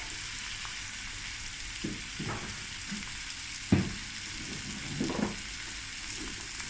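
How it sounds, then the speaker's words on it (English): Onions fry in a pan with a steady soft sizzle, broken by a few clattering knocks and stirring scrapes of a utensil against the pan. "So now that I have these onions cooking"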